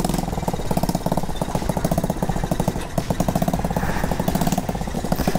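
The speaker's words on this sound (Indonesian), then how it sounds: "Terus kita engkol." Honda Monkey 50cc motorcycle running at idle after a kick start, a rapid, even putter from a small single-cylinder engine, close and steady.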